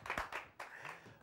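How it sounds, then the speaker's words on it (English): Studio audience applauding and clapping to welcome Jeremy Clarkson onto a live college TV show, a brief burst of close, uneven claps with a few distinct hand slaps. "a big round of applause. Put your hands together for Jeremy Clarkson"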